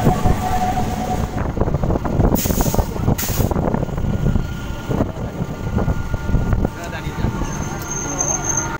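A moving passenger train from Krishnanagar rumbles and clatters loudly with rhythmic rail knocks and hissing bursts, a voice speaking over the noise.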